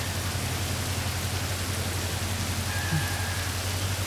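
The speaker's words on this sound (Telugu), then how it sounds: "వర్షం పడుతుంది" Steady hiss of falling rain, even and fairly soft, with no distinct drops or thunder standing out.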